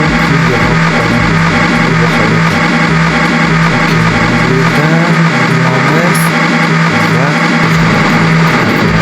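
A video-game truck engine from a Minecraft trucking game runs loud and constant, with revving swells throughout and no break.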